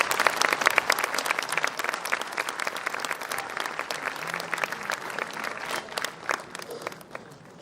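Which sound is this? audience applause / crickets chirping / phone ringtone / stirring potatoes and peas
audience applause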